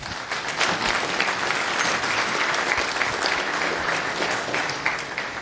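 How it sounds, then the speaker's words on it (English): An audience at a tech conference talk claps in sustained, dense applause, loud and steady from start to finish with no pauses. "So round of applause for her."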